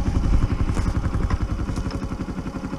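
A motorcycle engine idles and revs close by, its low, rapidly pulsing exhaust note steady and loud throughout, with faint clatter and no speech.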